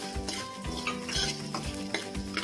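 Grated coconut is tossed into a hot kadai of roasted coriander seeds and dried red chillies, with stirring scrapes and a soft sizzle from the pan, close up and without any talking.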